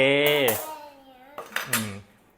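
A metal grill grate set onto a folding camping barbecue stove for Thai mookata pork grilling gives a few close clanks and rattles toward the end, after a voice is heard.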